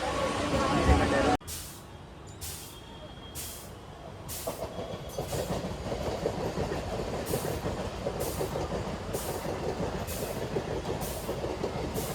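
A train rumbles along the rails with a steady rhythmic clatter, a close, continuous roar under faint background voices.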